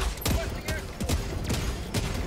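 Heavy cannon fire in the Helldivers 2 video game, with several loud booming blasts and impact bursts spread across the moment amid chaotic combat, with players talking over it.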